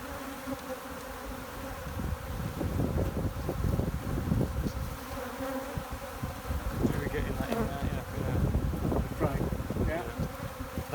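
Honey bees in a chimney hive buzz in a dense, continuous hum, close and swelling in intensity, with scattered handling noises and faint voices beneath.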